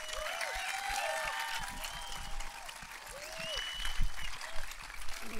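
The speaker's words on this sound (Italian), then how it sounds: "Vi chiedo un altro applauso per Arturo Brachetti" A live comedy club audience applauds, sustained close clapping with cheers and whistles from the crowd that swells again toward the end.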